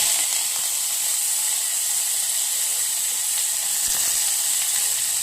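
Chopped onion hits hot oil with a steady, even sizzle, a constant bright hiss holding at a close, moderate level throughout with no voices.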